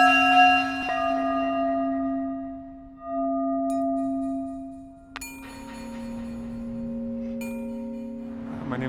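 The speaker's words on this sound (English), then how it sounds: "The installation is primarily a sound installation, but it's 59 different recordings of bells" Recorded bells from the A Bell for Every Minute sound installation ring out in clear, sustained tones, with a new strike starting around five seconds and a lighter ding later, layered over the fading resonance.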